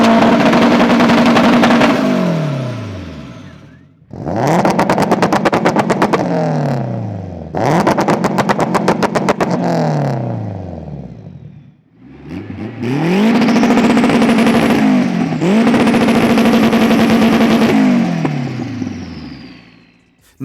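Three 500HP boosted Hondas, an EP3, a DC2 and a Del Sol, revving hard in turn, with loud repeated rises and drops, rapid limiter-style bursts and crackles between pulls, close and dominant.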